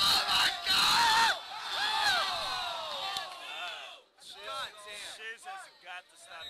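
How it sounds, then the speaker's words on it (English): Spectators at a Super Smash Bros. match cheer and yell, loud and dense at first, then thinning into scattered shouts and whoops, with voices talking throughout. "You can hear the community, like, cheering, like, this is a fight."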